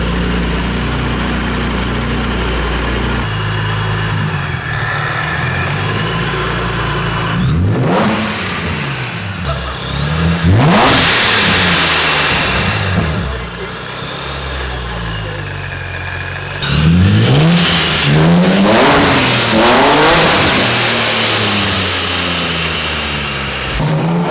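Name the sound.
supercharged Infiniti G35 car engine revving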